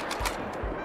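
Two rifle shots at a deer in TheHunter: Call of the Wild, in the Hirschfelden reserve, come as a pair of quick, muffled reports about half a second apart.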